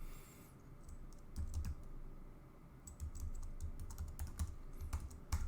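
Someone types on a computer keyboard in quiet, irregular bursts of clicking keystrokes, with no voices, close and fairly soft.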